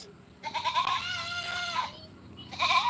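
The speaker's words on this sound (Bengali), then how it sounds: "আর চলে আসছে আমাদের ছাগল নিয়ে" A goat bleats in two drawn-out, wavering calls close by at a home with a garden, the second starting after a short pause, with faint outdoor background between.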